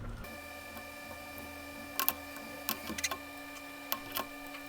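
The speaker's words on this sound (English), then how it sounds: "Now that the stack is loose, you can now proceed with unscrewing all of the motors." Tiny Phillips motor screws being unscrewed from a Tinyhawk micro drone frame, heard as a few sharp, close clicks and ticks scattered over a steady electronic hum.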